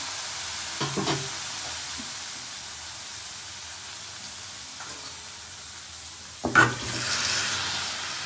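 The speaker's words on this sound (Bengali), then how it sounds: "জিরে ফোড়ন, কাঁচা লঙ্কা, তেজপাতা, আর গুঁড়ো ধনে গুঁড়ো, জিরে গুঁড়ো সব কিছু দিয়ে অল্প মশলা করছি" Cumin, green chilli, bay leaf and ground coriander and cumin frying in a pan, a soft steady sizzle with a few brief stirring scrapes near the start, middle and end.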